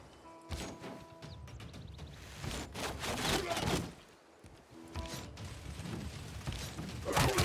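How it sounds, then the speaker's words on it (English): Archers firing in Civilization VI, a run of creaking bowstring and mechanical clattering attack sounds in two bursts with a crash, under a player's commentary. "Let's go ahead and fire with our archers again."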